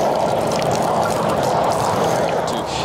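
Water rinsing an RV roof gives a steady, loud, close wash of splashing and pouring, unbroken across the whole stretch with no speech.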